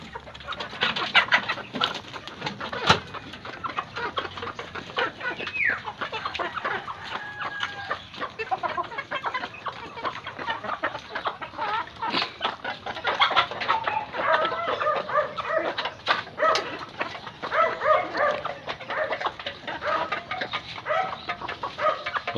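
Texas gamefowl on a farm in Tanauan, Batangas cluck and call continuously, a busy flock of overlapping short clucks and squawks at close to middle distance, with scattered sharp peaks and no talk.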